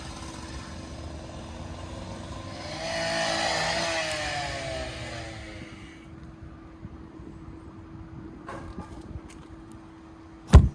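Motorcycle that has just been reassembled, its engine revving up in a swelling burst midway and then settling to a lower idle, ending with a sharp knock; no speech heard.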